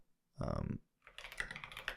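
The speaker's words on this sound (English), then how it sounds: "now typing in pod install" Typing on a computer keyboard: a brief burst of voice first, then a quick run of light, close key clicks in an uneven rhythm.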